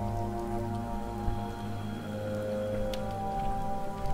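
Steady rain in Fallout 4 patters over a constant droning hum of game ambience, with a few sharper drop impacts and no voices.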